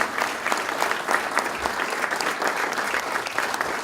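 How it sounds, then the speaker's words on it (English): An audience at a local mayoral candidate forum claps steadily for the candidates, a dense, close round of applause that holds evenly from start to finish. "How about a round of applause for both of the candidates for mayor?"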